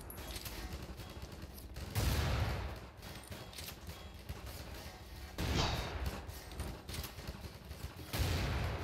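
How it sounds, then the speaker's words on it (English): Bursts of gunfire from M9K Specialties weapons during an NPC battle in Garry's Mod, with heavy volleys around two, five and eight seconds and steadier scattered shots in between. "If you're wondering what gun I'm using, by the way, it is from the weapons pack M9K Specialties."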